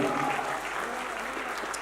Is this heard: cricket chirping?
no